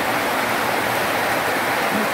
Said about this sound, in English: Rain come down far away.